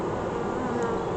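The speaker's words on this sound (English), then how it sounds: "Oh, that's where all the bees went." Honeybees buzz steadily around an opened hive during a spring inspection, a close, continuous insect hum with no voices.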